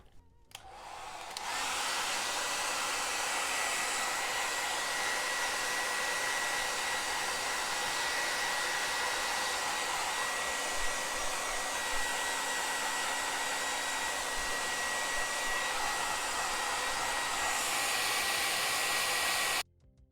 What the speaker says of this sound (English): try to aim the heat gun towards the edges instead of the middle if possible